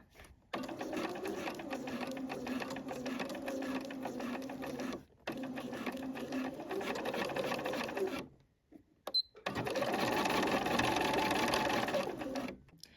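A sewing machine stitches the facing and back of a top together at the neckline, 1 cm from the edge, running in three steady bursts with short pauses between them, close and clear with no talking.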